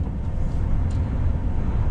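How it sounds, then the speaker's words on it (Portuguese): A truck's engine brake engaged at the third stage, giving a loud, steady low roar with road noise on a highway approaching Planalto, Bahia, with no talk. "Aciona o freio motor terceiro estágio aqui"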